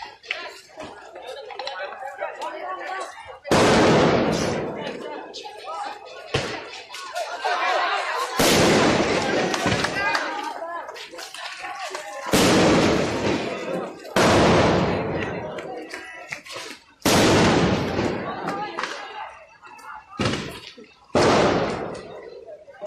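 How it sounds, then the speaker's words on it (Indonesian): Several loud, sharp tear gas launcher blasts ring out one after another at irregular intervals during a street clash, with people talking and shouting between the shots. "tembakan gas air mata."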